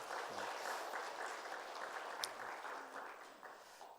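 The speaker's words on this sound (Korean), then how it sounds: "우리 결혼 잘하신 두 분 축하의 박수 한번 드리도록 하겠습니다." Church congregation applauding a newly married couple during a service, a soft, even patter of clapping held for several seconds at low volume with a faint voice underneath.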